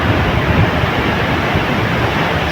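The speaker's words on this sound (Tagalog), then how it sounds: "big waves" Big ocean waves surge against a ship in bad weather, a loud, continuous broadband roar of rushing water and spray that fills the whole stretch with no pauses.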